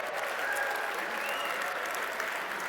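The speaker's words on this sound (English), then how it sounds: "round of applause for Daniel Alfredsson" Applause at an awards gala in honour of Daniel Alfredsson, a full, steady clapping from an indoor audience that holds at an even level throughout.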